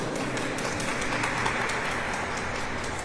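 Audience at a tobacco-free coalition press conference at the Arkansas State Capitol applauding steadily, a dense even wash of clapping held at constant level throughout, with no talk over it.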